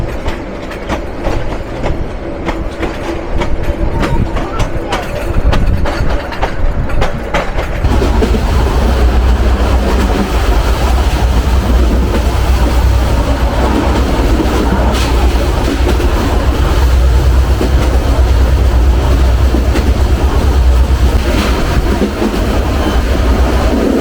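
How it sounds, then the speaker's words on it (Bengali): The Rangpur Express intercity train rumbles steadily along the tracks, with loud continuous rolling noise, low wheel drone and rhythmic clatter heard close from on board. "আন্তনগর রংপুর এক্সপ্রেস নিয়ে আমরা আবারও ছুটে চলছি"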